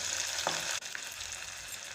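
Chopped ginger sizzles steadily in hot oil, a dense crackling hiss with a brief clatter partway through, close and continuous.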